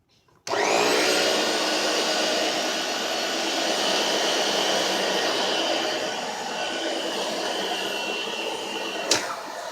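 A Bissell Pet Hair Eraser vacuum cleaner switches on with a sudden loud whine that holds steady and close for about nine seconds, then a brief click near the end.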